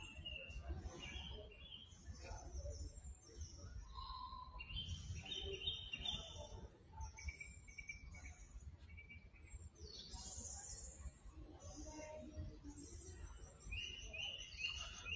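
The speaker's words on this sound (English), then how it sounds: "there's not only bird noises. That's a recording, of course." Bird calls and chirps from a recorded soundscape along a rainforest walk at a botanic garden, scattered high tweets repeating over a steady low background hum, fairly faint throughout.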